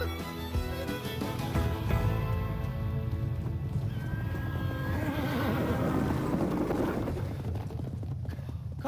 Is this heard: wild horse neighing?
yes